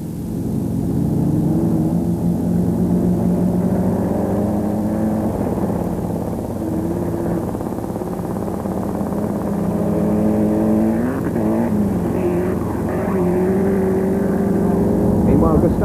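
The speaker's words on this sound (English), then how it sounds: "Trellis holding on in that third place in the Lancia Delta Integrale" A Lancia Delta Integrale rally car drives flat out on a gravel stage at the 1993 Argentina rally, its engine droning steadily with rising and falling revs, heard under commentary.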